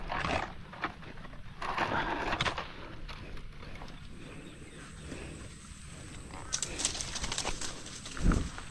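Soft, low pigeon cooing repeats a few times against an outdoor background with scattered rustles and knocks, near a lanzones orchard.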